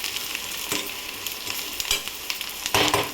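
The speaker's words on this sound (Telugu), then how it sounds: "ఇంకొక 2 మినిట్స్ అయితే ఫ్రై కానిద్దామండి." Prawns fry in a pan, village style, with a close, continuous crackling sizzle broken by a few sharp stirring scrapes and spatters, and nobody speaking.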